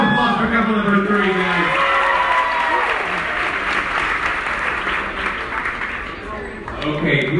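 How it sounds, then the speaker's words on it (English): A crowd in the Sky Princess cruise ship's piazza claps loudly and steadily for an eliminated couple at an onboard game, with scattered cheers and voices through the applause, which eases off slightly before swelling again. "Round of applause for couple number 3,"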